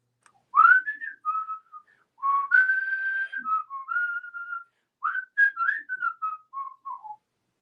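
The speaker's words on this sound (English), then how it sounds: "let me hear you whistling." A person whistles a lilting tune in three clear phrases with short pauses between, close and alone with no talking.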